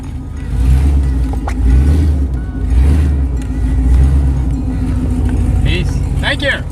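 A loud truck engine droning steadily while driving, with a low rumble rising and falling as it pulls along, heard from inside the cab and loud throughout.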